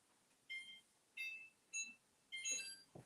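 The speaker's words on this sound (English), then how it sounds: "So let's do a timer for like 15 minutes so we keep an eye on it." A kitchen timer beeps in four short electronic bursts at a steady pace, fairly quiet over a faint room background, with a soft clatter at the end.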